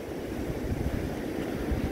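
Steady coastal wind at Portimão, Portugal roars and buffets the microphone, a constant low rumbling gust with no voices.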